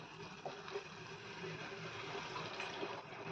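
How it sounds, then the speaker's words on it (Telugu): Milk is poured from a small pot into a pan of broad beans cooking as a curry, making a steady, close liquid rush and soft bubbling that continues without a break. "ఇప్పుడు చూసారా ఈ బుజ్జి చెంబుతో పాలు పోస్తున్నాను"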